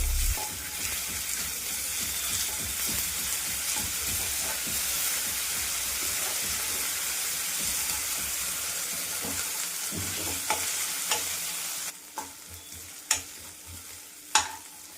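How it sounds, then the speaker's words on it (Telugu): Half a teaspoon of ginger garlic paste frying in a pan for a brinjal and dry fish curry, a continuous close sizzle and hiss with a few sharp scraping clinks of the stirring spoon near the end. "ఇప్పుడు ఇందులో 1/2 టీ స్పూన్ అల్లం వెల్లుల్లి పేస్ట్ వేస్తున్నాను. ఇది పచ్చివాసన పోయే వరకు వేయించుకుందాము."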